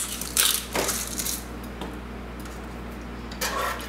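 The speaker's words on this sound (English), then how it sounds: "I'm also going to add in some fresh ground pepper, as much as you want." Fresh black pepper ground into a macaroni and cheese sauce gives several short, crunchy grinding bursts, close and fairly quiet, separated by pauses.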